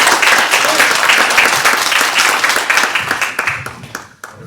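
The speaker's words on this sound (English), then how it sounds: "Give them another round of applause." An audience at a dedication night claps loudly and steadily, the applause thinning and tapering off toward the end.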